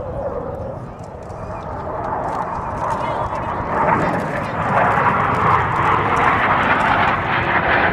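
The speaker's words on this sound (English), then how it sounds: "both aircraft are in the carrier landing configuration as they approach for a maneuver" Two U.S. Navy Blue Angels jets in carrier landing configuration pass at a 1997 air show at MCAS El Toro, producing a loud, continuous engine roar that swells toward the end, with an announcer speaking over it.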